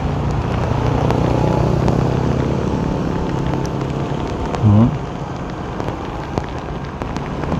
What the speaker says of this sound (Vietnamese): Mưa quá to luôn.